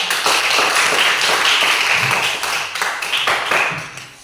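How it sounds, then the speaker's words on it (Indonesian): Applause for group 2 in a classroom, with dense, steady clapping from many hands that continues for several seconds and tapers toward the end. "Berikan aplaus untuk kelompok 2"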